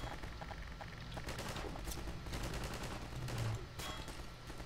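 Rapid gunfire in the Half-Life 2 video game, with a dense, sustained burst of shots and scattered sharp cracks over a steady low rumble.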